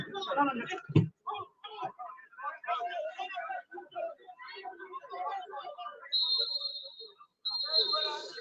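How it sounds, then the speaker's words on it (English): A referee's whistle at the end of a non-league football match, two long shrill blasts near the close, heard over a commentator's steady talk. "is the full-time whistle."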